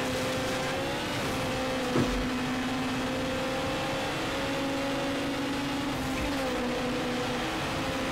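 A race car in a Need for Speed Underground drag race holds a steady, droning engine note with slight pitch shifts as it accelerates, loud and continuous with no voices.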